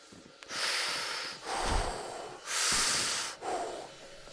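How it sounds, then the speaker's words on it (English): Heavy breathing through a gas mask in Call of Duty Black Ops Cold War on PS5: four loud, hissing inhale-exhale cycles in a slow steady rhythm, close and alone with no talk. "Gotta love this heavy breathing effect in the mask."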